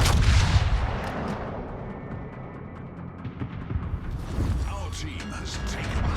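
Heavy naval guns boom in a warship video game, a loud opening blast followed by rumbling reports and scattered impacts, with a voice talking over them.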